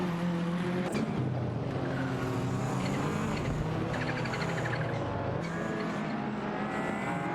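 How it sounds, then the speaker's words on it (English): BMW M3 and Subaru Impreza race cars in a racing video game, engines droning steadily at high revs with a passing whoosh near the start and tonal engine whine throughout, no talk. "Naibe's handling a BMW M3, while Smurf 20's behind the wheel of a Subaru Impreza."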